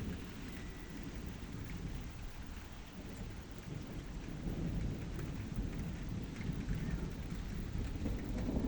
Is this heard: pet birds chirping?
no